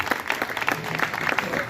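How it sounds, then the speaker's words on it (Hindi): An audience at a public meeting or rally applauds, dense continuous clapping from many hands with a voice faintly mixed in, steady and moderately loud. "इनके लिए एक बार जोरदार ताली।"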